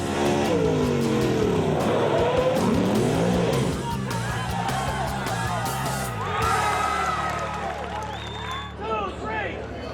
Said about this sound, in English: The C truck reaches speeds of over 70 miles an hour before slamming on the brakes to make the drop.